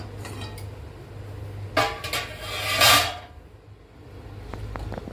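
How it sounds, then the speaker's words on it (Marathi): Golden roasted dry coconut for goda masala is scraped from a pan onto a plate in a home kitchen, with a few clattering metallic scrapes and clinks bunched in the middle, then quiet. "ह्या सुख्या ताटलीमध्ये आपण हे सोनेरीसर भाजलं गेलेलं सुखं खोबरं हे ताटामध्ये काढून ठेवत आहोत"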